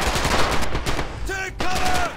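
Gunfire in the video game Red Orchestra: dense, rapid bursts of shots fill the clip at close range, broken by a short tonal cry near the middle.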